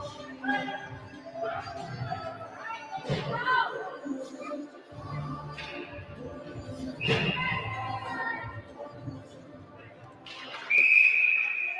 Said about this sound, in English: And the whistle right off the draw.